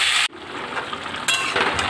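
Potatoes frying in a pan, a close steady sizzle broken by a short clatter at the start and a louder burst of hissing later on.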